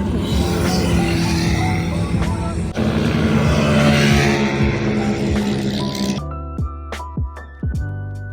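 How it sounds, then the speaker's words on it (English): A turbocharged air-cooled Volkswagen engine in a dune buggy revs loudly and roughly up close, then cuts back to a lumpy idle with a few sharp throttle blips near the end. "Volkswagen air-cooled motor with a turbocharger."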